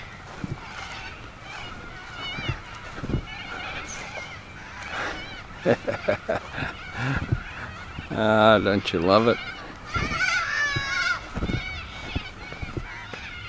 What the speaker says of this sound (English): Those birds are called cockatoos.